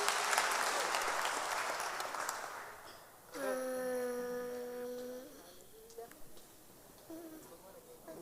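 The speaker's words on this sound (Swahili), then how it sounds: "Tupigie makofi." Congregation clapping during a Kikuyu church service, a dense wash of applause that fades out, followed by a sustained sung or wailing tone and scattered quieter sounds.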